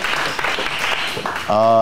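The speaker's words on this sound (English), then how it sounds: "So can we give those people a round of applause?" An audience gives a round of applause at a club meeting, a dense burst of clapping close by, with a voice heard over it, before it breaks off into a sustained tone at the end.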